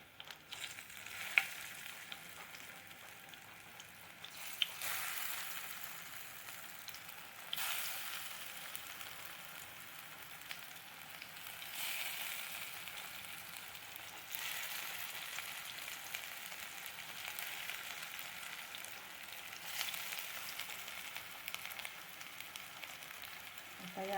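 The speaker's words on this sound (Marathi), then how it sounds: "शालो फ्राय करून घेऊया." Colocasia leaf rolls (aluvadi) shallow frying in hot oil, a steady close crackling sizzle with periodic louder bursts of spattering, continuous throughout with no voice.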